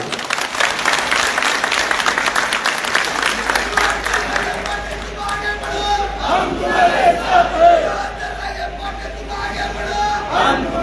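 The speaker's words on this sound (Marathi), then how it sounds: "सगळ्यांनी एकदा स्वतःसाठी टाळ्या वाजू" A crowd at a Maratha community meeting claps loudly, dense applause at first that thins out, with shouts and voices rising over it later.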